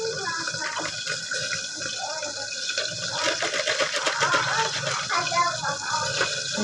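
Tap water pours steadily into a mixing container while someone talks in Cebuano in a home kitchen, a continuous splashing, running-water wash that swells slightly toward the end.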